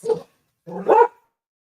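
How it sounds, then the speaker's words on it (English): A neighbour's dog barks twice nearby, a short bark followed by a longer, fuller one, loud and clear against silence. "The neighbor's dog decided to start barking"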